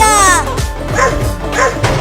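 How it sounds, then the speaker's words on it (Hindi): A cartoon dog barks and yips loudly up close, several quick harmonic barks in a row during a Holi-themed comedy chase. "दम लगा के दौड़ बिल्ली, वो कुत्ता बहुत पास आ गया है"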